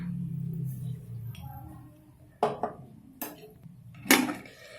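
Lid set on a pot of mustard greens (sarson saag): a few light metallic clinks and taps, close and fairly soft, following a low bubbling simmer.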